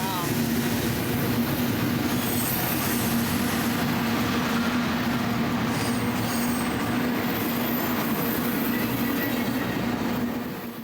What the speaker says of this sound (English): I wanted to show this the amount of time that this train takes to pass us because we're talking about like a mile long train.